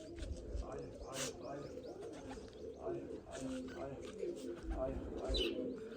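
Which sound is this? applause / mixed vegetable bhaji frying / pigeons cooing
pigeons cooing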